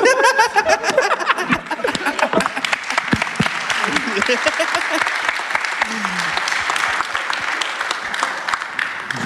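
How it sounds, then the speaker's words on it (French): A live audience at a French public show breaks into loud, lively applause, with chuckles and laughter mixed in and a voice briefly speaking over the clapping before it thins out. "Allez, on peut applaudir Morphalus, merci."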